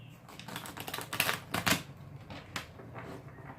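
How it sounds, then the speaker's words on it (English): A tarot card deck is shuffled in quick riffling bursts, crisp papery clatters that swell in two louder flurries near the middle and then a smaller one, close and otherwise quiet. "One more shuffle."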